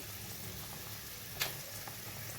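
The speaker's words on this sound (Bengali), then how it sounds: "ঝোলটা খুব ভালো মতো ফুটে গেছে" A fish curry simmers at a full boil in a pot, making a steady, dense bubbling hiss throughout with one brief louder pop near the middle, close and with no talking.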